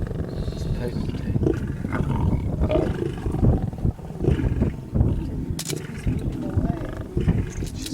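Deep, rumbling roars and growls from lionesses feeding alongside their cubs on an African wildlife outing, continuous and close, with low guttural grunts throughout and no clear talk.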